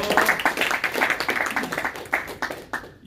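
Audience clapping at the finale of a fitness weight-loss competition, a dense, irregular patter of many hands that stays moderately loud for a few seconds and then thins out.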